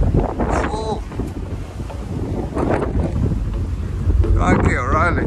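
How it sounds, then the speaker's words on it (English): Strong wind buffets the microphone on the upper deck of a Condor Commodore Clipper ferry crossing from Portsmouth toward Guernsey, a loud continuous low roar with gusty swells and brief voices passing underneath. "Very windy."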